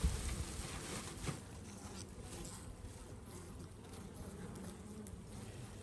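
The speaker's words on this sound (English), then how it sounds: "This is a lot of bees and they need food." A large swarm of honeybees buzzing inside a hive in a production yard in late winter, a soft continuous drone heard close and fairly quiet, with a faint knock near the start.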